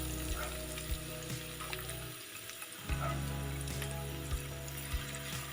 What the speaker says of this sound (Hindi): लहसुन हमारा फ्राई हो चुका है, अब हम इसमें टिंडा ऐड करेंगे।